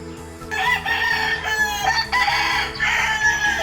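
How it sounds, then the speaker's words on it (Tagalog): Roosters crow repeatedly and chickens cluck in a yard near Los Baños in Laguna, Philippines, several loud overlapping calls over a steady low background hum. "Puro manok."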